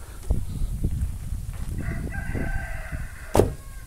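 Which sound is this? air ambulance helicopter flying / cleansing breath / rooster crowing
rooster crowing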